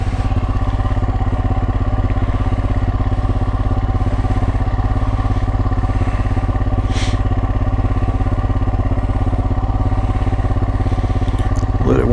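A 2022 Royal Enfield Himalayan motorcycle with a Hitchcocks carburetor conversion idles on full choke at about 2,000 RPM, a loud, close, steady mechanical thrum that holds an even pace throughout.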